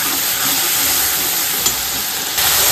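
Tomato masala paste frying in a pan, a constant loud hissing sizzle with a faint stirring scrape midway, close.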